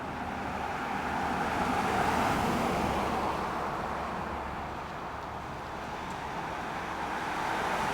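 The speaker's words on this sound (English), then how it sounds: "But here comes the line of traffic." A steady line of road traffic passes on a road near Five Points, Alabama, a continuous faint rushing hiss of tyres that swells and eases as vehicles go by at a moderate distance.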